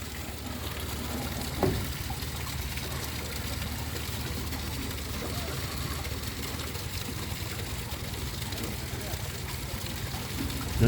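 Water drains from a canal lock at Falkirk, Scotland, as a steady broadband rush that runs unbroken throughout, with a voice talking over it.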